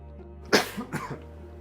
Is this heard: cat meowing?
no